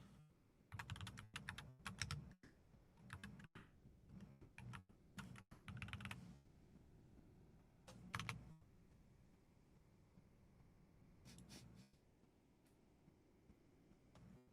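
Typing on a new computer keyboard, with dense bursts of close key clatter in the first six seconds, then a few shorter flurries separated by quieter pauses.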